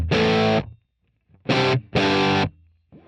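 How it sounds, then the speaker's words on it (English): A dry, distorted electric guitar with no ambience or reverb plays three loud, heavily driven chord bursts, each stopping cleanly with no tail, and a fourth starts at the end. "you're hearing a very bone dry signal."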